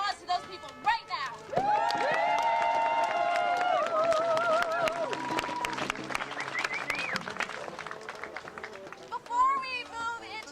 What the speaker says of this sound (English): I want to give a big round of applause to those people right now.